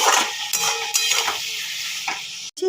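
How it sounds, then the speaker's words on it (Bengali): Turmeric powder is stirred into flat beans frying in a pan: a steady soft sizzle with repeated scraping strokes of a spoon against the pan, close up, and no talking. "হলুদ দিয়ে একটু নাড়াচাড়া করে নেব"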